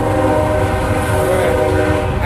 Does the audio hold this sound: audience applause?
no